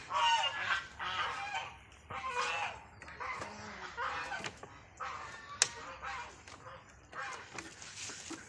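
Ducks inside their duck house on a small laying flock's farm give repeated nasal honks and calls in uneven bursts, loud and close, with a few sharper cries standing out.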